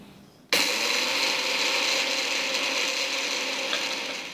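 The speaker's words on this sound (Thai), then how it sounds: "ปั่นให้ละเอียดเลยนะครับ" An electric blender grinds sesame seeds for satay sauce, starting abruptly and running as a loud, steady whirring roar that carries on without a break.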